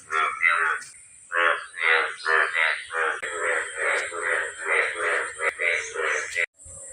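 A steady series of croaking frog calls on a rainy day repeats in a quick rhythm, close and fairly loud, with a short pause near the end.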